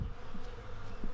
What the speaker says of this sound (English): I'm hoping that these are commuter bees and not a whole hive of bees